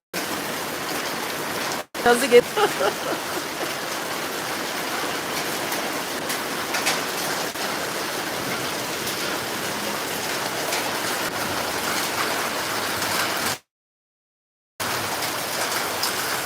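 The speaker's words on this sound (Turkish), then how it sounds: "Aynı zamanda da dolu yağıyor arkadaşlar" Hail and rain pour down in a steady, dense hiss that drums on surfaces for most of the stretch, with a brief voice and a laugh early on and a short cut to silence near the end.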